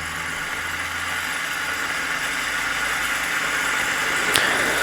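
A small Chinese vertical flywheel Stirling engine runs steadily, giving a continuous, even mechanical hum and whir with faint vibration, close by and alone, with a brief click near the end.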